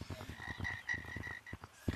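A frog croaking in the Gorilla Tag video game, giving a quick run of repeated, rhythmic croaks at fairly low volume, heard on their own with no talking.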